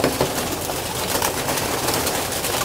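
Young racing pigeons at a loft, soft cooing and rustling with light wing flutters, close and continuous over a busy background.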